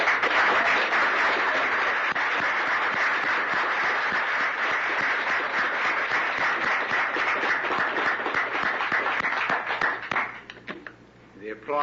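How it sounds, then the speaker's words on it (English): Sustained audience applause at a memorial service fills the room, steady dense clapping for about ten seconds before fading out near the end. "The applause tells you better than I can, Bill."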